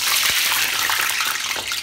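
Khajoor dough dipped in water is dropped into hot oil, giving a loud, steady, close hiss and bubbling sizzle with faint crackles running throughout.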